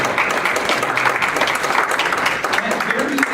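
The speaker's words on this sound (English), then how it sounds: "And we should give ourselves an applause." Meeting audience applauding, a dense burst of clapping filling the room for a few seconds with some voices mixed in.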